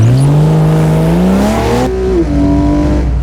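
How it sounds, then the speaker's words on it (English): A Porsche 911 flat-six engine revs hard through rising gears while accelerating from 0 to 60, loud and close, with a clear upshift and the note climbing again afterward. "it's thanks to the unmistakable soundtrack of a Porsche flat 6 engine"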